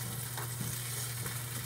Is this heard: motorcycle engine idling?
no